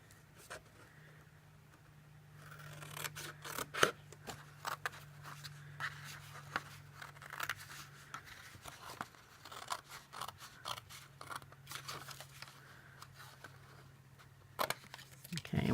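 Scissors snip through gift bag paper in a quiet room, a run of sharp, irregular close cuts with papery crunches between them, over a faint steady low hum.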